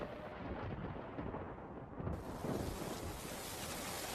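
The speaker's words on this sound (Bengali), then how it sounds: "হঠাৎ বৃষ্টি শুরু হলো" Cartoon rain arrives suddenly as a loud rushing roar with low rumbles, and it swells and grows brighter partway through.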